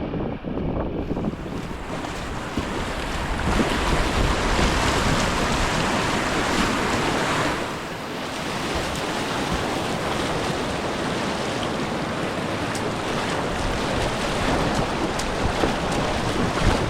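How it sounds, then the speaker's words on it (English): Rapids on the New River rush past a small boat in a continuous loud wash of churning water mixed with gusty wind buffeting, steady for the whole stretch with one short dip midway. "rapid water through here"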